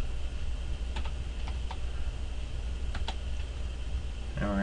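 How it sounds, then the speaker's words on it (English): Several sparse, light clicks from a computer keyboard tap out in short bursts, close and fairly quiet over a steady background hum. "now we're going to type in the encapsulation"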